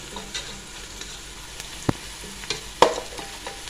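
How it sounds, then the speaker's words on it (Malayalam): Onion, crushed ginger, garlic and green chilli fry in a pan for Malappuram-style biryani, giving a low, quiet sizzle broken by a few sharp clinks and scrapes of stirring, close up and without speech. "ഉള്ളി വാടിയ ഇഞ്ചി വെളുത്തുള്ളി പച്ചമുളക് ചതച്ചത് ഇട്ട് കൊടുക്കുക"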